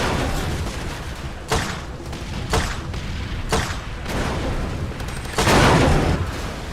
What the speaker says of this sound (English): this is the grenade launcher